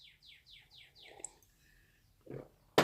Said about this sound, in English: I have this bird that is loud as shit, and every time I talk, it starts like whistling